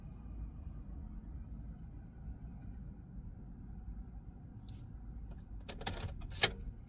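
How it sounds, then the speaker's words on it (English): A car key is pulled from the ignition of a 2004–2006 Nissan Maxima, giving a few faint metallic jingles and clicks near the end over a low, steady cabin rumble. "Now remove the key from the ignition."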